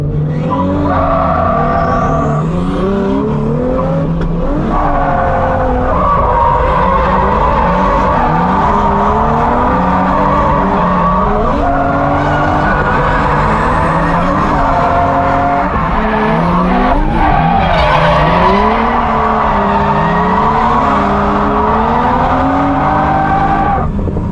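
A drift car in a practice session, skidding under hard throttle with loud tire squeal and a revving engine. It goes on for more than twenty seconds, sounds close, and the pitch of the squeal and engine keeps rising and falling.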